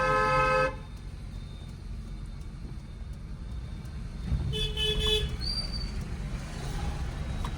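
A car horn sounds in a narrow lane, one sustained honk at the very start, then low road rumble with a faint higher horn-like tone later on.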